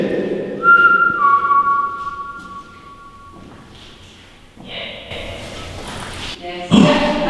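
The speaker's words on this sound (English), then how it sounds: "Did anyone hear that whistle? Slight whistle." Faint sustained whistle-like tone inside a haunted British prison, drawn out for a couple of seconds over room noise, followed by people talking and shuffling.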